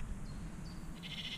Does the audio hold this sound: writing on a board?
no